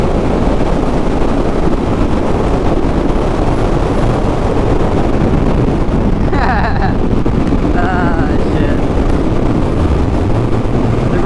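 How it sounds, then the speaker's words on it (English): Heavy wind buffets the microphone nonstop, a loud roaring rumble with brief higher whooshes midway and no voices. "It's so perfect for ripping. It's just so open. It's so windy."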